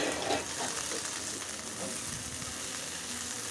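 A little oil sizzles steadily in a pan while culantro leaves are cooked for a mashed bharta, a dense, even hiss that continues unbroken at moderate loudness with no voices.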